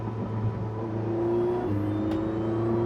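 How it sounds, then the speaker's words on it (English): Porsche 918 Spyder hybrid pulling hard in a higher gear, its electric motors spooling with a steady rising whir over a low continuous drone, close and sustained with no talk. "see him in a higher gear, and that was really just the electric motors, spooling in"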